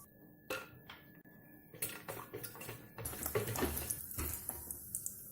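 Nuts fry in hot oil in a pan with shahi jeera, cinnamon stick and cardamom for soya keema pulao, a quiet crackling sizzle broken by sharp clinks and scrapes of a utensil.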